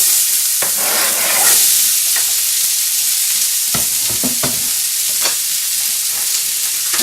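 Chopped onion sizzles in a skillet, a loud steady hiss of frying with occasional scrapes and taps of stirring, close and continuous with no talking.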